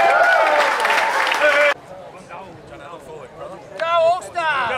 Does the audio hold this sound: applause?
yes